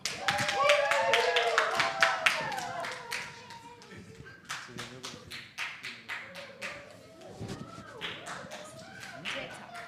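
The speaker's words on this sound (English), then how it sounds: "ladies and gentlemen, with a warm round of applause, our keynote speaker, Nicolette Mashile." Audience applause at a women's summit in Namibia greets a keynote speaker: loud, dense clapping at first, thinning into scattered claps with some crowd voices underneath.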